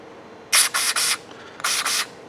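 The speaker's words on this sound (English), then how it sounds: "So I go ahead and use a bit of brake cleaner." Brake cleaner is sprayed into the carburetor of a 1984 ATC 200M during a rebuild: five sharp, close hissing bursts, three in quick succession, then a pause, then two more, with no voices.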